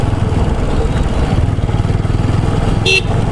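A BS4 motorcycle engine droning loud and steady while riding through crowded morning traffic, with a brief horn honk near the end.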